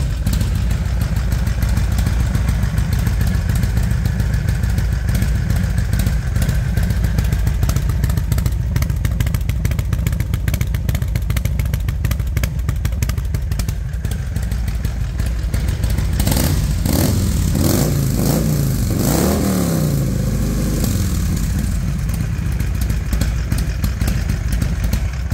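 A Harley chopper Ultima Black Diamond 1550 with a 2-into-1 exhaust starts and runs, its steady loud idle thumping close by, with a burst of revving and clatter partway through before settling back.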